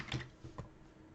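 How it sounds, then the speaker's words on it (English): Quiet clicking on a computer keyboard: a short burst of a few soft keystrokes, close and alone, with a pause before one last tap. "I'm going to type Fabian in because I like typing things in."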